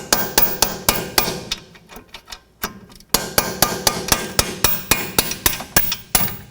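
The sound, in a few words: hammering camber adjustment bolt through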